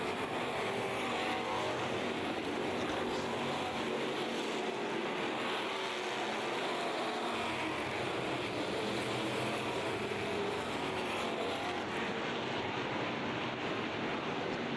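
Hobby stock race cars at a 50-lap dirt oval event roar continuously around the track in a dense, steady wash of engine noise, loud and sustained throughout with no speech.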